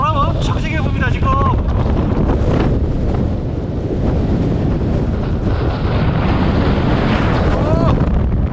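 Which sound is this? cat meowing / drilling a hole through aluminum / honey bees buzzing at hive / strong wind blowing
strong wind blowing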